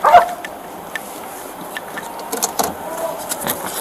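A police dog barks in a few sharp bursts near the start, then whines and yips more faintly amid background noise at a traffic stop.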